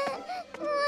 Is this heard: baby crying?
yes